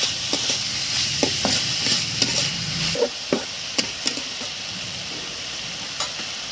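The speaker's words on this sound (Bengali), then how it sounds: "পরিমাণ মতো লবণ দিয়ে দিচ্ছি এবং সামান্য হলুদ দিয়ে দিচ্ছি। ভালো করে নেড়ে নেব।" Bitter gourd frying in a pan with salt and turmeric, stirred with a spatula: a steady sizzle under repeated sharp scraping clicks and taps at an uneven rhythm.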